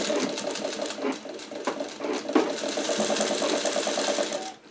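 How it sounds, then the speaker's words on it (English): Sewing machine stitching down the top of fabric scraps for a webbing project, a steady fast needle rhythm running nearly five seconds close up, with small speed shifts before it stops. "now I'm just going to take the top and then sew it down."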